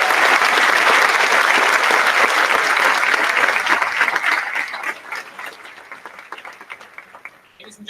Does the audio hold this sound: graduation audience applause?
yes